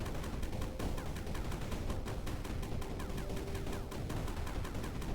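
Rapid gunfire in the physics-based sand factory game Sandustry, a dense continuous stream of quick shots at steady level with no speech.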